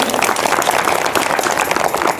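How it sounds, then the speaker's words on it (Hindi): An audience at a Shiv Jayanti gathering in Ardana claps in welcome of a guest, a steady, dense patter of many hands close by. "सभी तालियों द्वारा स्वागत करेंगे।"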